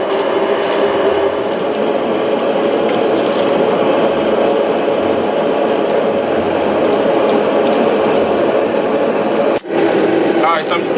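Ratchet backing out a mix of 8mm and 10mm bolts from a car's plastic under tray during a ZF 8HP transmission service, steady clicking over a constant drone of shop background noise.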